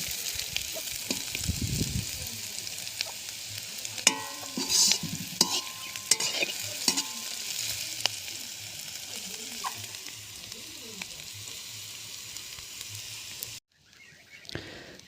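Vegetables for fried rice sizzle in oil with a little ghee while being stirred and scraped around the pan in uneven strokes, then the cooking stops abruptly near the end.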